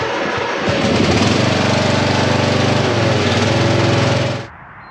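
Riding lawn mower engine, a tractor mower insulated against the cold with glass wool, runs loud and steady close by at an even idle for about four seconds, then cuts off abruptly into quiet.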